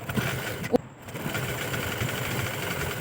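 A sewing machine stitches a bias strip onto a blouse armhole, running with a fast, even mechanical whir and rattle after a brief click at the start, close and steady with no talking.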